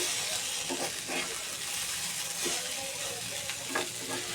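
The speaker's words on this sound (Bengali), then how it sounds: "এবার এটা আলুর সাথে মিক্স করে নেব" Liver and potatoes frying together for a Bengali bhaji, with a low steady sizzle and intermittent scraping stirs and spatula taps against the pan, quiet and close with no speech.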